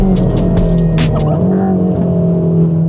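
A race car engine revs hard and close, a loud sustained mechanical drone climbing in pitch, with brief high tire-squeal bursts in the first second.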